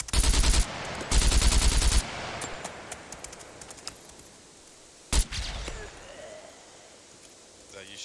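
Automatic gunfire in the Scum survival game: two loud close bursts of rapid shots, then a single sharp shot with scattered quieter reports amid talking voices.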